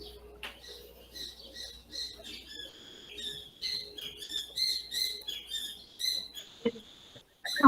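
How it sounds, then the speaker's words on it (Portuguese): A great kiskadee (bem-te-vi) calls outdoors in the countryside of Teresópolis, Brazil, giving a string of short, bright chirps at moderate distance over a quiet background. "É um barulho de bem-te-vi."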